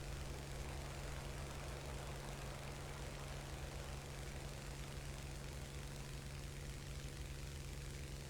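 A steady, unbroken drone of airplane engines in the game War Thunder hums on without change, faint and constant throughout.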